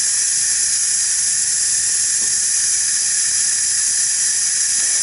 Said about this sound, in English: And you can see all of that steam is really coming out.